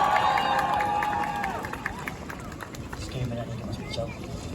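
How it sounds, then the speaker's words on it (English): Protesters gathered at a pro-Palestinian rally in Leeds cheer and clap for the next speaker, a loud, busy crowd roar with shouts and babble that swells at first and then settles. "Round of applause for Jawad,"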